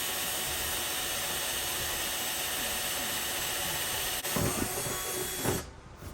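A continuous high-pitched whirring hiss of a drill with a 3/16 bit, run under light pressure, steadily, roughening briefly near the end before cutting off abruptly.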